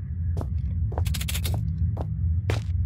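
Worm creature in Penumbra: a constant deep, throbbing rumble underlies the scene, with several sharp crackling bursts and clicks breaking in at intervals, loud and close.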